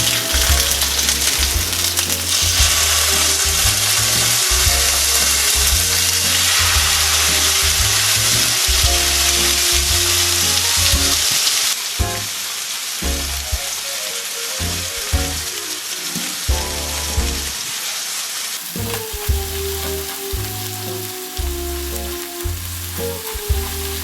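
Pork chops fry in a pan with a loud, continuous sizzle and crackle, occasionally shifting as they are moved or stirred, steady throughout with no one talking.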